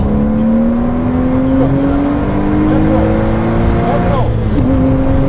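Porsche Cayman S engine pulling hard on the Folembray circuit, a loud steady rising drone that climbs in pitch, briefly dips and then resumes, with an instructor's voice speaking over it throughout.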